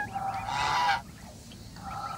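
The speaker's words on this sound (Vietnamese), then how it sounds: "Đấy, ngỗng." Geese honking at a poultry farm: a loud, harsh burst of overlapping honks lasting about a second, then quieter scattered calls continuing in the background.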